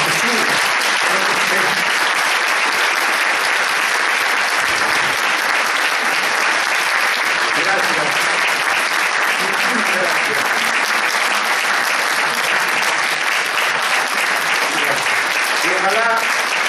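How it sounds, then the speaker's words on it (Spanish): Loud, sustained applause from a large theater audience at a variety show fills the whole stretch, an unbroken wall of clapping with faint voices underneath. "ese fuerte aplauso que suba, que suba"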